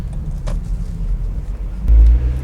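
A Mazda MX5 sports car's engine burbles low and steady throughout, swelling into a louder, deeper rumble near the end, with no talking over it.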